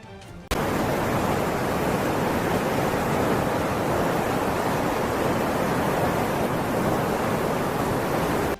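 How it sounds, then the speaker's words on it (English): A sudden, loud, unbroken roar of rushing floodwater in Beijing starts after a brief quiet moment and fills everything with dense, steady hissing noise. "The air was thick with the sound of rushing water"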